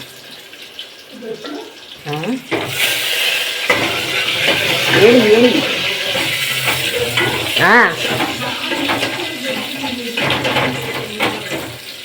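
Spices crackle and sizzle in a pan as tempering for sambar, a busy close frying hiss with stirring and clinks of cookware, while people talk nearby.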